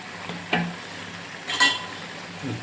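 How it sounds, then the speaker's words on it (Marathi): Egg curry (anda kalvan) simmering in a pan is stirred, giving two brief scraping clinks about a second apart over a soft bubbling background, with a faint knock near the end. "थोडंसं असं हलवून घेऊया"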